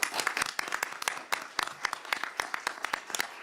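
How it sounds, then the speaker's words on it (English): Audience applause at a board of education meeting, with dense, crackling claps, steady and moderately loud throughout, no voices on top. "Can we give her a round of applause?"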